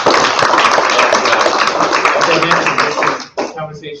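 An audience claps in a dense, steady round of applause for a few seconds after a talk, then it thins out into a few scattered claps.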